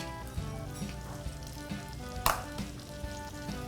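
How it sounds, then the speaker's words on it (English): Diced onion and celery sauteing in a pan for crabmeat au gratin, giving a steady close sizzle with a few soft clicks and one sharper knock partway through; no voices. "We're gonna saute these till they're, you know, the fancy word will be translucent"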